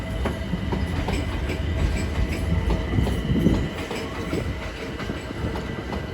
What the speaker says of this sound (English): Heading off now is the 1629 London Overground service to Richmond.